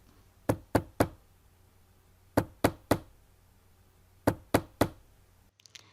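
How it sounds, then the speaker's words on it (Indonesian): Knocking on a door in three groups of three sharp raps, each group separated by a pause of about two seconds, close and clear against a quiet background. "suara pintu diketuk."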